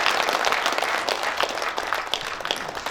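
Audience applause at a Korean journalists' day anniversary ceremony after an award acceptance speech: dense, steady clapping filling the room at even loudness throughout, with no voices over it.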